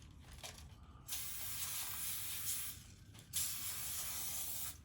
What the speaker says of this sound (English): we're just gonna take some pan spray and spray the inside